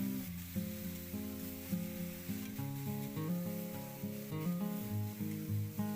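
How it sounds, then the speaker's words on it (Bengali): Spice masala sizzles as it is sautéed with a splash of water for jackfruit kofta curry, a soft steady hiss with periodic stirring scrapes under background music. "অল্প করে একটু জল দিলাম দিয়ে আরও একটু ভালো করে কষিয়ে নিচ্ছি"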